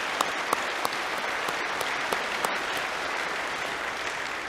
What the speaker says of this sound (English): I think that deserves a round of applause for your leadership this year.